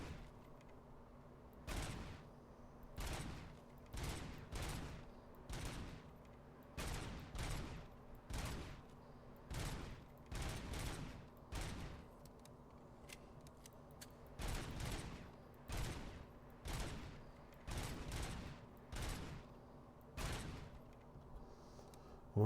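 Gunfire in the video game Robocop: Rogue City: a long sequence of sharp, repeated shots in short bursts with brief gaps, steady and fairly loud over a low hum, no talk.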